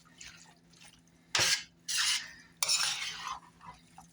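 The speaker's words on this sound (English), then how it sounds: "You just want to mix this well." A big metal spoon stirs salsa verde black bean chicken enchilada filling in a bowl, making three loud wet, squelching scrapes close by between quieter moments.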